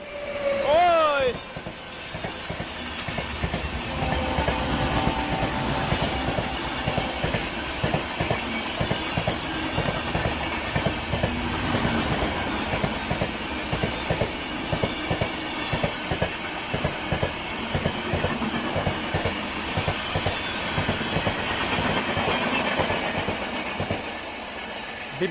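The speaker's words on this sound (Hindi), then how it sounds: "नई दिल्ली डिब्रूगढ़ राजधानी एक्सप्रेस" The New Delhi–Dibrugarh Rajdhani Express passes close at speed, a long steady roar with rapid rhythmic clickety-clack of wheels over rail joints and a brief horn at the start.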